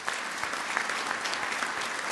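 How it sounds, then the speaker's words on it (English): Audience applause at a county government address: dense, steady clapping from a crowd in a hall, continuous throughout at moderate loudness. "Give her a round of applause."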